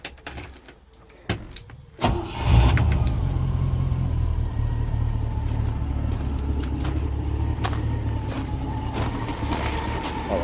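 After a couple of sharp clicks, a 1972 Range Rover engine, untuned and with no throttle pedal fitted, cranks and catches into a steady low rumbling idle that carries on to the end.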